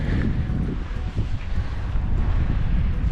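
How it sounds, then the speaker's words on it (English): Strong wind buffets the microphone on Yellowcraig Beach in East Lothian, a constant low roaring rumble with gusty swells and no talking. "It's getting a little bit windy now."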